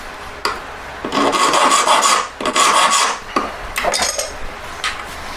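A small jewelry tool is hand-filed to sharpen it while being rotated in the fingers, giving close, loud rasping strokes in several uneven bursts separated by brief pauses.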